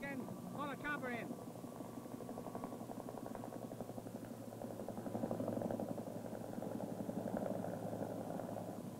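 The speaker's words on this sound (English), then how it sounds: "bring the man back up here so that we can pull a chopper in" A military helicopter approaches for an evacuation during a jungle combat operation, a continuous rotor and engine drone that grows a little louder partway through, beneath a voice talking at the start.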